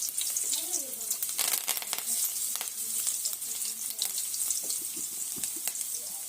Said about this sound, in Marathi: लसूण भाजला की त्यात कडीपत्ता घालून घ्यायचा